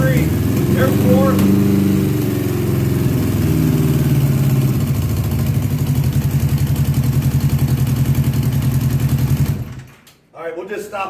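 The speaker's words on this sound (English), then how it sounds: "You could hear it's like not running on all 4 cylinders, and then one kind of kicks in and it runs a little better and then it died out" A 1982 Honda Goldwing motorcycle engine runs rough on three of its four cylinders, a loud, uneven chugging idle with brief revving near the start that stumbles and cuts out near the end.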